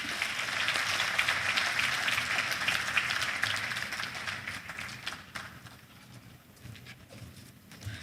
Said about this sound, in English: Please, another round of applause for Dr. Eric Ogulaye.